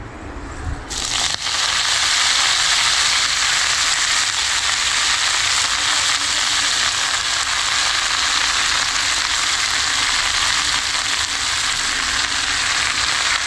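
Chawli (amaranth) leaves hit a hot pan, and a loud, steady sizzle and crackle of frying starts abruptly and carries on evenly for more than ten seconds.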